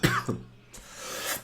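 A person nearby gives a sharp cough, then a second shorter one and a throat clear, followed by a breathy exhale.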